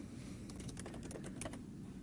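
Fast, steady typing on a computer keyboard during a coding tutorial, a run of light clicky keystrokes close to the microphone over a constant low hum, with no talk.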